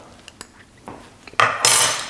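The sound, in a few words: spoons scooping fromage blanc for a smoothie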